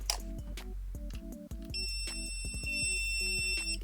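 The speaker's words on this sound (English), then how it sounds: "just thought I'd try my other continuity tester here" A basic continuity tester used on an Intellivision controller gives short repeated electronic beeps in an uneven rhythm over a low steady hum, quiet and close.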